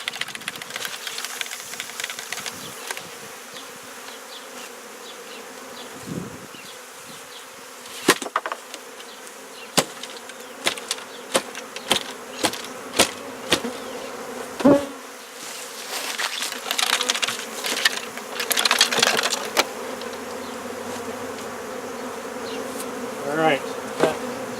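Bees buzz in a dense, continuous drone while a hive is removed from a speaker box, with scattered knocks and thumps from the box and rising swells of louder buzzing; no one talks.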